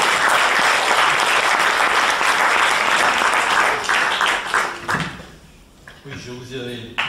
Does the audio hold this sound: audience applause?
yes